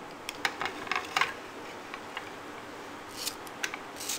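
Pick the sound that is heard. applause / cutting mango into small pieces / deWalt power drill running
cutting mango into small pieces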